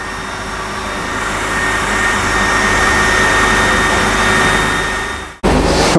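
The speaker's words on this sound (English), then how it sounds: "I'm happy with this air suction" A fume extraction fan pulls air from an Algo Laser ALPHA 22W laser cutter with a steady, loud, broadband whoosh, briefly cut out near the end before resuming.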